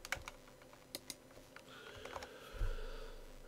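Keys clack on a Mac computer keyboard in a quiet room, a sparse run of soft, separate taps with short pauses between them, fairly close and faint.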